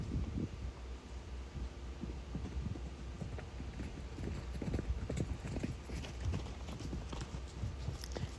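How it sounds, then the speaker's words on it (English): Horses run around out in a pasture, their hoofbeats thudding in a loose, uneven clatter at a moderate distance, with wind and rustling leaves in the background. "Now the horses started running around out there in the pasture again."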